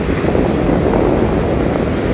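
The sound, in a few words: fishing trawler returning at Digha estuary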